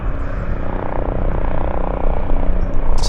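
A Bell 206 helicopter approaching Vancouver Airport gives a loud, steady rotor and engine roar with a rapid low chop, close and continuous throughout.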